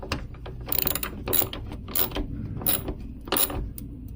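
Ratcheting clicks and metallic mechanism sounds come from a hood strut fitting being tightened on a Nissan Frontier, in short irregular bursts of ratchet pawl action, close and moderately loud, with no talking.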